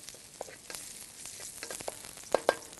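Chili and garlic stir-frying in a pan: a soft, continuous sizzle broken by scattered scrapes and taps of a spatula, ending with two clear clinks close together.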